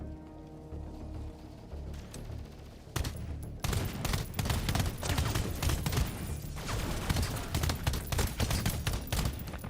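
Rapid shotgun blasts in the video game Pax Autocratica, a dense run of loud, close shots after about three seconds, firing repeatedly over a steady background rumble with no talk.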